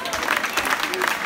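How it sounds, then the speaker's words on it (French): An audience claps at a sports club's season team presentation, a brief burst of busy applause mixed with crowd voices and chatter. "applaudissements"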